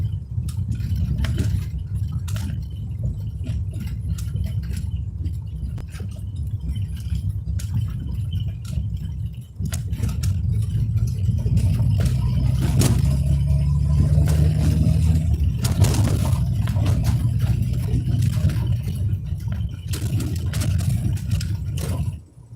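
A car drives along a road, its engine giving a continuous low rumble heard from inside, with slight swells as it accelerates and a brief dip near the middle.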